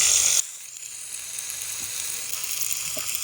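Shallot and green chili paste sautés in a pan for chicken biryani, giving a steady close sizzle that drops slightly after a louder opening moment and then holds even throughout.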